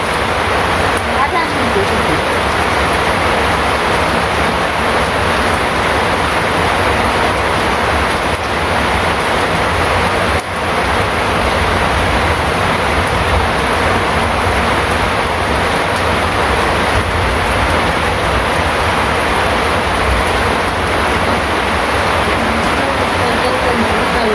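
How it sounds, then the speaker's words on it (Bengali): Heavy rain pouring down steadily, a dense, loud, unbroken rushing wash of water that continues without pause. "প্রচণ্ড বৃষ্টি নামছে দেখতেই আছেন"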